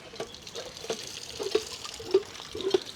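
Water gushes and splashes in short irregular spurts from a hand pump well that has been bringing up reddish mud, close by and moderately loud, with no talking.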